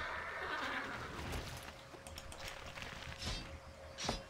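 Horses neighing in the video game Warcraft III, a couple of faint whinnies against game background sounds, with no talk.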